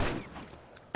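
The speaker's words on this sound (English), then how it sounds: "So this is a huge gunfight." Gunfire in The Last of Us during a large gunfight: a burst of shots at the start fades into reverberant tail, then a sharp loud shot cracks near the end.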